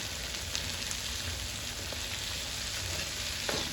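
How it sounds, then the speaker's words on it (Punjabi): Cumin seeds and chopped onions fry in a pan for an aloo sandwich. A steady, dense sizzle continues throughout, with a few faint clicks and stirs and no voices. "ਇਹਨਾਂ ਨੂੰ ਵੀ ਪੁੰਨ ਲਵੋ ਜੀਰਾ ਦਾ ਪਿਆਜ਼ ਬਹੁਤੇ ਨਹੀਂ ਪੁੰਨਣੇ ਬਰਾਉਨ ਜਿਹੀ ਰੱਖਣੇ ਨੇ ਇਹ"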